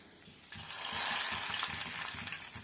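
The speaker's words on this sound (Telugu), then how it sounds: "దినుసులు పచ్చిశనగపప్పు, సాయిపప్పు, ఆవాలు, అదేవిధంగా వెల్లుల్లి రెమ్మలు, కరివేపాకు పెట్టి పోపు పెట్టుకుందామండి" A tempering of chana dal, mustard seeds, garlic cloves and curry leaves sizzles in hot oil for a lentil curry, making a steady, close frying hiss that swells after a brief quieter start.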